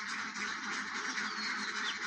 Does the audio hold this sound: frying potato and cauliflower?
no